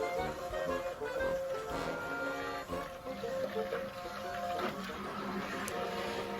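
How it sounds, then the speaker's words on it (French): Soap batter is mixed toward trace with a motorized stick blender, a close, whirring mechanical drone with slight wet churning that wavers in pitch and intensity. No one speaks over it. "on va pouvoir mélanger jusqu'à obtenir une trace"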